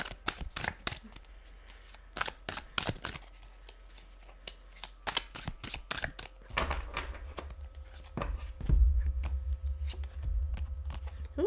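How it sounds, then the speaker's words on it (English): A tarot card deck is shuffled in quick, sharp riffling bursts of flapping cards separated by brief pauses, close and crisp, with a low rumbling background rising partway through. "I definitely shuffled this deck."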